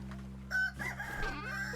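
A chicken in the survival game Vintage Story gives a short burst of clucking calls, set against steady in-game ambience and background music.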